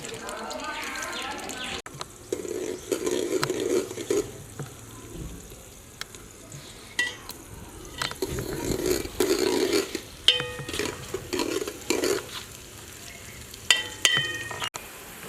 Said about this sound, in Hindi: प्याज को गोल्डन होने तक भून लेंगे।